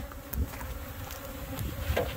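Honey bees buzzing steadily and close up while a beekeeper shakes a brood nest to make package bees, a dense continuous hum with scattered louder passes of individual bees and no talking.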